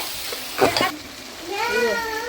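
Biryani mixture being stirred in a frying pan, with a short scraping stir and sizzle near the start, then a faint high voice-like whine over quiet frying.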